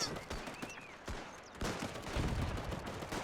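Rifle and machine-gun fire crackles in a WW1 trench battle game, with several sharp distant reports over a busy, rumbling battlefield background.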